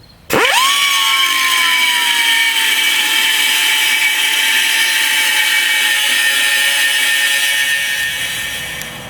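An abrasive cutoff tool spins up and bites into a leftover scrap of steel for a utility trailer frame repair, a loud steady high whine with a harsh grinding edge that holds for several seconds before beginning to wind down.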